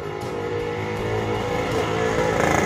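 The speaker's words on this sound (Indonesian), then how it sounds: "Dengar suara motor" A motorcycle engine runs loud and close with a steady, rough drone that swells slightly toward the end, heard alone without any talking.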